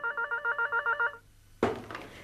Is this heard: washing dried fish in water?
no